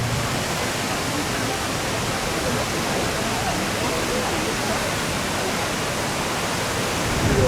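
Loud, steady rushing of whitewater fills the scene at the Radja River rapids ride in Walibi Belgium, a broad continuous roar with no break, heard up close.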